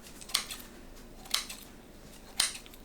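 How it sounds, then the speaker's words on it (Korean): Scissors snip through dried shredded squid, cutting it into bite-size pieces for a spicy dried radish side dish: three crisp, evenly spaced cuts, close and fairly quiet, with no talking. "진미채는 너무 길지 않게 한입 크기로 잘라 넣으세요"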